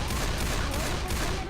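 Rapid automatic gunfire from an AK-12 in the Japanese arcade port of Left 4 Dead 2, a dense, continuous rattle of shots that holds steady and loud for the whole short burst.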